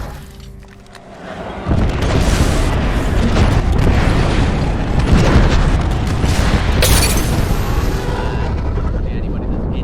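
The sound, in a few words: Gibraltar's defensive bombardment ultimate exploding, Apex Legends video game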